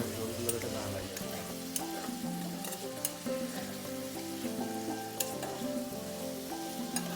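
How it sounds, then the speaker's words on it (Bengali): Chicken liver fries and gets stirred in a pan, a steady close sizzle with scattered sharp clicks and scrapes of the utensil against the metal, while faint music or tonal sound plays underneath throughout. "তারপর আবার এগুলোকে ভালো মতো কষিয়ে নেব।"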